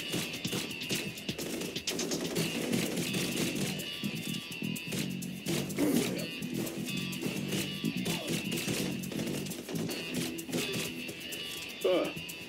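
Gunfire in the Blue Estate shooter, in a tunnel level: rapid bursts of shots crackle throughout at moderate volume over a continuous background mix, ending with a sharper burst.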